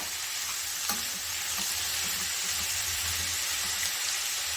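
Chopped ridge gourd sautéing in a pan on a low simmer flame makes a steady close hiss and sizzle, with a few faint stirring knocks, and no voice over it.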